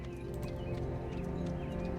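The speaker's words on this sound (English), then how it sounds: "Folco laughed, Billy neighing in response." A horse's hooves clip-clop in a steady walking rhythm over roadless land in a tabletop fantasy adventure, joined by a whinnying neigh, fairly loud and continuous with no talking.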